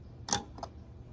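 A Nissan Frontier gas cap snaps shut with one crisp click followed by a softer second tick, close and brief over low background hum.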